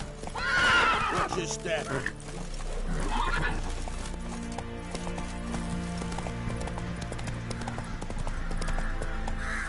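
In The Witcher 3, a horse neighs loudly early on and then keeps up a steady clip-clop of hooves, while a person talks over it.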